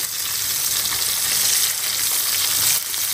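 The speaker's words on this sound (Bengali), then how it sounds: "আর এখন মাছ ভাজি করতেছি।" Fish fries in hot oil in a pan, a loud, dense, steady sizzle crackling throughout with no pauses.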